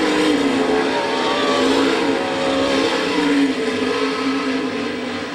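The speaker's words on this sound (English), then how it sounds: "Down the backstretch, they race with Luis still holding a 12-car length adva" Winged sprint race cars on a dirt track during a heat race at Gibsonton, Florida, their engines roaring loud and continuous down the backstretch as the pack passes at full throttle.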